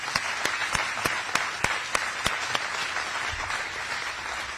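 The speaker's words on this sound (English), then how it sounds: "Let's give them a round of applause." An audience at a governor's bill-signing event for rural healthcare in Iowa claps in steady, sustained applause. The dense hand-clapping continues evenly throughout, with a few sharper claps standing out nearby.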